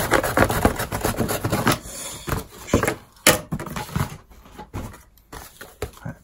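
Ordinary household cardboard is cut down to size with close rubbing, rasping strokes that come in irregular bursts and pauses, loud and near, with no talking.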